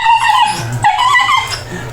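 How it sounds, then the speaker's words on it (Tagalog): Dogs whimper and yip close by in high, wavering whines, with a brief pause midway before the whining resumes. "Ayan, mga aso ko."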